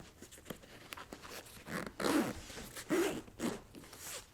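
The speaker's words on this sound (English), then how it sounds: "and zip it all the way up" A separator zipper on a John Deere Gator XUV seat cover is pulled closed, heard up close as a few short ratcheting zips, the longest and loudest runs coming in quick succession toward the end.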